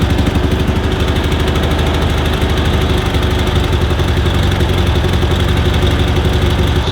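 An old 1967 Fastback car engine idling loudly and close after several start attempts, a steady, rough rumble that holds without change throughout.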